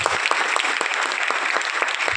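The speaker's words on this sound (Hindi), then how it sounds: "इसके लिए जोरदार तालियां होनी चाहिए।" An audience claps loudly and steadily at a company gathering, a sustained patter of many hands filling the room.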